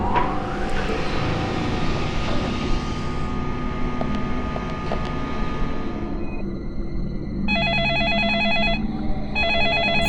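An electronic telephone ringing in the video game Deadly Premonition Origins, two repeated trilling bursts rising over a loud droning ambient background with no talk.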